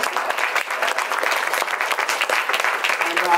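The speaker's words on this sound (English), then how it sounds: "her generosity deserves another round of applause from us, guys" Audience at a book launch applauding, dense and sustained clapping from a crowd filling the whole moment at steady loudness.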